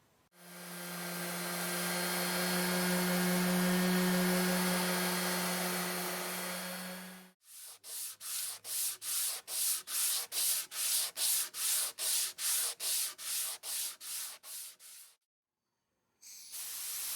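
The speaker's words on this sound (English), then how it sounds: "Going to start off with a fresh 220 grit sandpaper, and then I'll finish with a 220 by hand." Wood furniture being sanded with 220 grit sandpaper: a long steady abrasive hiss for several seconds, then a quick run of about a dozen even back-and-forth hand strokes, a brief pause, and a last scrape.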